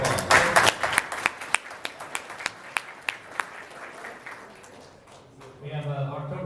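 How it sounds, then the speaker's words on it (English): Rotary meeting audience applauding a round of clapping, dense at first then thinning to scattered individual claps before voices resume at the end. "let's give a round of applause"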